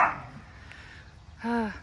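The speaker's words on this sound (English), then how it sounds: "Dogs." Dogs in a backyard garden in spring bark once in a short, clear bark near the end, mid-distance, preceded by faint outdoor background noise.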